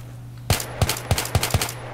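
AN-94 rifle fire in Battlefield 3, five sharp, close shots in quick succession after a brief quiet hum, each a punchy crack with a short tail.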